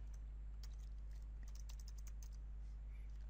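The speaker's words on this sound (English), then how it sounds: "I'm typing an entry here." Light, irregular clicks of typing on a computer keyboard while entering data into an Excel spreadsheet, quiet and scattered over a steady low electrical hum, with no talking.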